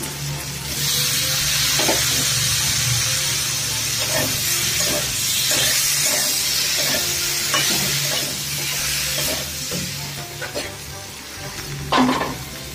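Potato pieces fry in a pan of spiced oil for a curry, producing a loud, continuous close sizzle with hissing steam and repeated scrapes of a stirring spoon.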